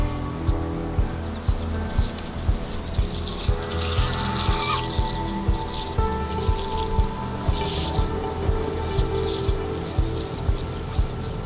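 Water poured onto a bonsai forest planting dressed with sand, a steady splashing and trickling that runs throughout, broken by soft regular drips and taps, fairly close and with no voices.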